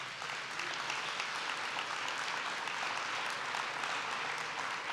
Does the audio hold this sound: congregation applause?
yes